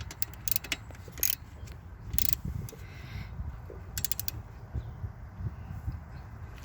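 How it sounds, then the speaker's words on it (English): A ratchet with a 1/2 inch socket tightens the alternator bolt on a 2003 Town Car during a 6G alternator swap. Close, quick bursts of clicking pawl strokes come in short runs with pauses between them. "Get our 1/2 inch socket here. And we can tighten this thing down right here."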